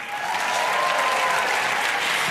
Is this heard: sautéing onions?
no